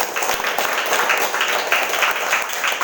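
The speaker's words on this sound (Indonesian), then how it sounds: "Tepuk tangan dong." Audience applause for a silver medal winner from the PON Papua national sports games at a martial arts gathering, a dense, steady wash of clapping lasting throughout at moderate loudness.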